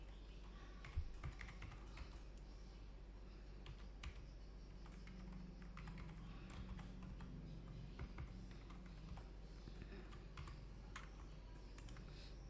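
Numbers typed on a computer keyboard, with quick, faint key clicks in uneven bursts over a steady low hum.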